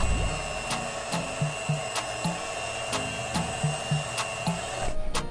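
Electric mixer beating jackfruit cake batter with caramelized sugar at low speed, a steady close whirring hum with regular rhythmic clicks and bumps, cutting off near the end.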